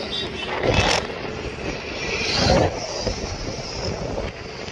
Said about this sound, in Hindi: हवा आ रही है पूरी तेजी से, सर सर सर।